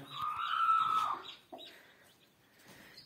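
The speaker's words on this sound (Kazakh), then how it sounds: "менің алдын жатқызған күрік тауығым ашып шықты балапандар" A broody hen clucks and calls close by, a drawn-out cackle followed by softer clucks and faint peeping from newly hatched chicks, with no talking.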